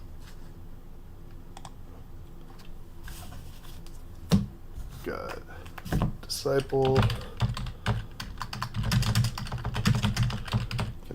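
Keys clatter in quick bursts on a computer keyboard at a desk, the typing steady and close while someone talks over it.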